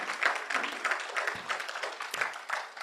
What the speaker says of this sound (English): So another big round of applause for Marcella.